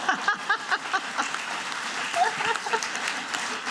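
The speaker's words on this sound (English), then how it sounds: "You can clap." An audience at a literary festival event claps together. The applause is fairly close and comes as quick bursts of hand claps that settle into a softer, steady patter.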